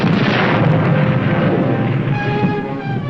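Deck gun aboard the submarine Tang firing rapidly at Truk as an ammunition dump explodes, a dense, continuous roar of blasts and rumbling detonations, loud and sustained throughout with no talk.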